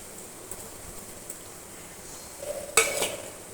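Carrot and potato pieces stirred in a pan while sautéing for suji rava upma, a faint scraping stir that builds near the end into a brief louder clatter of the spoon against the pan.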